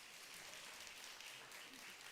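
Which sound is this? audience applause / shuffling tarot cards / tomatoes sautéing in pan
audience applause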